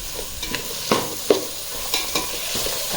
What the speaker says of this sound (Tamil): தக்காளி போட்டு தக்காளி போடும் போது இப்போ ஃப்ளேம் ஹை பண்ணிக்கோங்க.